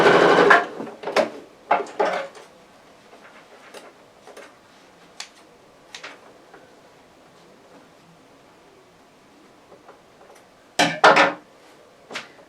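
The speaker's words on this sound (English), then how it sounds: "I'm just going to sew down that centre line to hold those tucks in place" A sewing machine stitching down the centre line of a fabric apron to hold tucks in place, with a brief run of stitching at the start and again near the end, separated by quiet handling clicks and taps.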